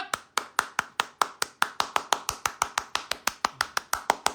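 Basketball fans at a Cleveland Cavaliers home game against Detroit clap in a steady rhythmic chant, about five crisp claps per second, sharp and close, with no talking.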